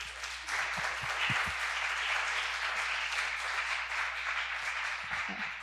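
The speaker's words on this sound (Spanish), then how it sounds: "aplausos." An audience claps steadily after a talk on a student project against inequality, a sustained wash of applause at moderate volume with a few low thumps and murmurs underneath.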